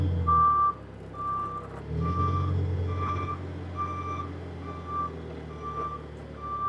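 A Yale GLP040SVX propane forklift with a partial cab backs up, its reversing alarm beeping in a steady even rhythm over the low rumble of the engine, with no talking.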